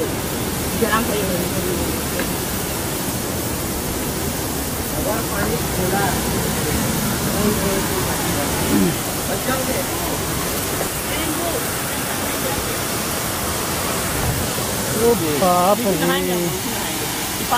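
Water rushes fast over stones at Dhanraul Dam in Sonbhadra, Uttar Pradesh, a steady, loud, close roar of churning flow with a brief voice speaking over it.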